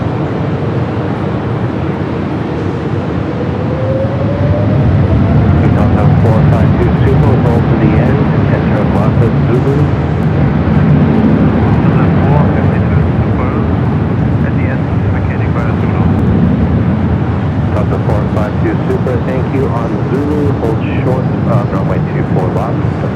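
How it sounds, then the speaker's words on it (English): An Airbus A380 touching down at Los Angeles International produces a broad, sustained jet rumble and rushing roar, with a voice talking over it throughout. "450 checking in just as the A380 touches down."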